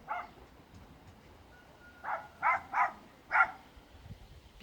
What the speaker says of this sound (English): how else could we be aware of the dog barking?